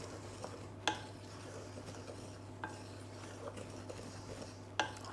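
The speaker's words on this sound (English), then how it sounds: "Give that a stir. Just combine it all." A spoon stirs ginger, bicarb and baking powder together in a bowl, making soft steady scraping with a few sharper clinks against the side, heard alone over a low background hum.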